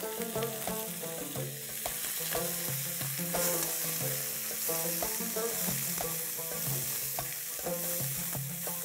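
Sliced onions frying with black cumin seeds and spices for mutton tahari, a dense continuous sizzle with frequent clinks and scrapes of stirring, close and steady with no talk.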